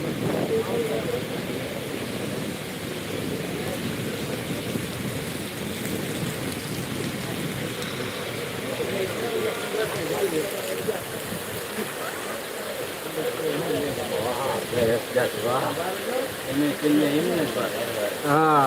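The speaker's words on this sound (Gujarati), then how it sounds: "વરસાદ ખૂબ જ છે તમે લોકો જોઈ શકો છો" Heavy rain pouring down at an outdoor marketing yard in Botad, a dense continuous hiss and patter close by, with someone talking over it.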